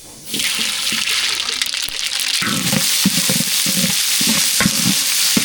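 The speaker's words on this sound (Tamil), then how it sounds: "எண்ணெய் சூடாயிடுச்சு கடுகு சேர்த்துக்கலாம்" Mustard seeds hit hot oil in a pan while a snake gourd stir-fry is being prepared, setting off a sudden loud sizzle with scattered crackling pops that grows busier and continues.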